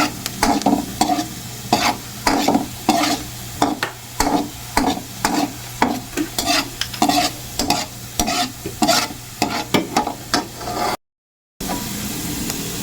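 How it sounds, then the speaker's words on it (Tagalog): Squid adobo is stirred in a sizzling pan, with a steady rhythmic scraping of the utensil roughly every half second over a constant frying hiss, close and fairly loud. "Ayan, haluin."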